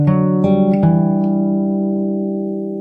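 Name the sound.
fingerstyle guitar, next part of a song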